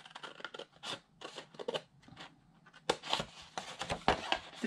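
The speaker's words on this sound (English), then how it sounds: "So all I'm doing is cutting up to the second score line." Scissors cut a scored paper box for a purse-style embellishment box, a series of close crisp snips in uneven bursts with small paper rustles, quiet and alone.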